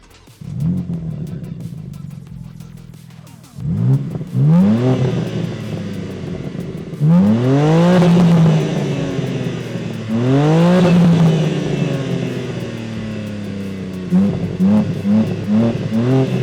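A 2023 BMW M2 in M mode with the sports exhaust revs hard several times, each loud close-up blip climbing and falling away between short idle pauses.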